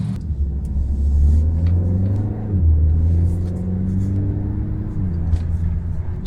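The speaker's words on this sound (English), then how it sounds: "It makes you want to press the accelerator and go." A 2025 Kia K4 GT-Line engine accelerates from inside the cabin, a deep rumble rising in pitch with two gear shifts, steady and fairly loud.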